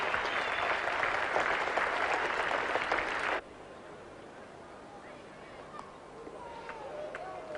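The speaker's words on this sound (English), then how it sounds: "the spectators applauding this little man very warmly" Spectators at a 1977-78 India vs Australia cricket Test in Brisbane applaud warmly: loud, dense clapping for about three seconds that cuts off abruptly, leaving faint crowd ambience with scattered calls.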